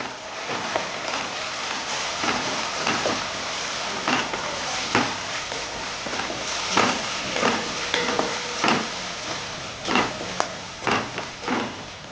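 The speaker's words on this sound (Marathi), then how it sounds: "आपण मिक्सरमधून जे बारीक वाटून घेतलं होतं वाटण ते टाकणार आहोत ते पण छान परतून घेणार आहोत" A ground wet masala paste with asafoetida sautéed in a pan for a horse gram curry: a steady frying sizzle broken by repeated scrapes and clinks of a spoon stirring against the pan.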